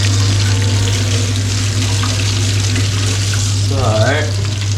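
Barramundi fillets sizzle steadily as they pan fry in hot oil, a loud, continuous crackle close up, with a low hum underneath and a brief clatter near the end.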